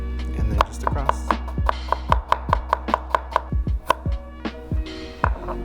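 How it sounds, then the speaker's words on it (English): A knife dicing a vegetable on a cutting board for butternut squash risotto, a run of about sixteen crisp, evenly spaced chops up close, slowing with a few final cuts. "So we're gonna dice this too."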